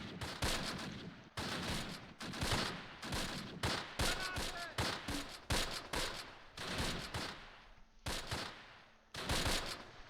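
Gunfire from soldiers in the World War II game Close Combat, Veghel near Arnhem 1944: repeated bursts of rifle and machine-gun fire in rapid clusters with brief gaps, sharp and loud throughout.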